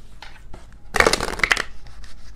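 Tarot cards being shuffled give a burst of rapid crisp riffling and flicking for about a second, close up, with softer card handling before and after and no talking.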